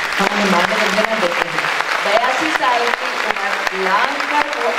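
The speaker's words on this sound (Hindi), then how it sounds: "तालियों की गूंज के साथ" Audience applause at a live stage interview, a dense steady patter of clapping lasting throughout while a voice talks over it.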